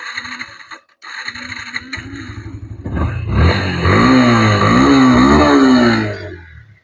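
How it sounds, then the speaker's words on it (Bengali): A 2024 Yamaha FZ V2 motorcycle engine starts after a few seconds of quieter clatter, then runs and revs loudly and steadily close to the microphone until it cuts off near the end. "বাইকটা এখন স্টার দিয়ে সাউন্ড করে শোনার চেষ্টা করবো আপনাদের"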